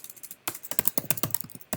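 Rapid, uneven keystrokes clatter on a computer keyboard in a quiet room, close and fairly soft, with a brief pause before a steady burst of typing.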